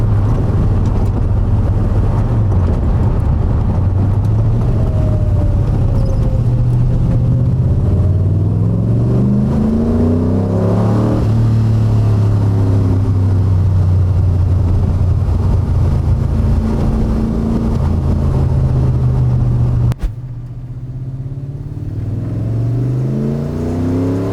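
A Cobra sports car drives on the road, its engine revving up and down through several accelerations with wind rushing past the microphone. The engine note drops sharply near the end.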